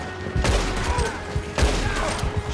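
Old-style gunfire in Red Dead Redemption 2 Online, with two loud, sharp shots about a second apart, each followed by a decaying boom over a steady game background.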